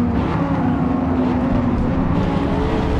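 Race car engine droning loud and steady in the Forza Motorsport racing game, a sustained high-revving roar with no talking.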